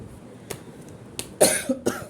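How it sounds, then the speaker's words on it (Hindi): Four short, sharp coughs spaced unevenly, close by, with quiet background between them and the last two coming harder and louder. "बहुत खांसी है।"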